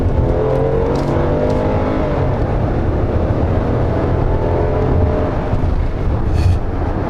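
A Hyundai Palisade 3.8 or Kia Mohave 3.0 large SUV accelerates on an open road. Its engine drones steadily and loudly from inside the cabin, with a rising hum and road rumble throughout and no talk.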